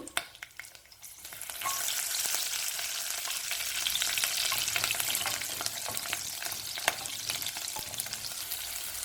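Fenugreek, fennel seeds, green chili and garlic frying in sesame oil, starting quietly and then swelling into a continuous crackling sizzle with scattered pops and stirring sounds, no speech.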